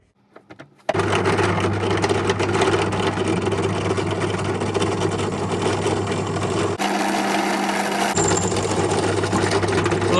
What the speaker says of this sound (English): One of the HSS bits in my pillar drill.